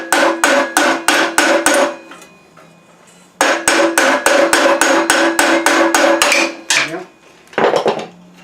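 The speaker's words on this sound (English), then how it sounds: "take a hammer" A hammer strikes repeatedly at the flywheel of a Predator 212cc small engine, in two sharp, evenly spaced bursts of loud metallic blows, with a short pause between them and a few softer clanks at the end.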